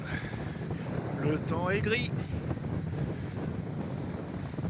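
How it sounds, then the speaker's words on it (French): Strong wind of about 20 knots apparent roars over open water aboard a sailboat leaving an atoll in French Polynesia, a constant rushing buffet, while someone speaks briefly over it. "Le vent, il y a 20 nœuds apparents à peu près."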